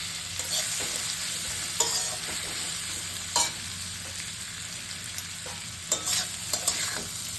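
Potato peels fry in ghee with a continuous close sizzle, broken by occasional sharper stirring clinks and scrapes, no talking.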